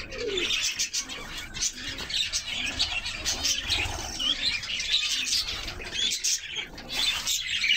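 Pigeons coo steadily inside a pigeon loft, a busy overlapping chorus of soft calls and chirps with occasional wing flaps, close and continuous throughout.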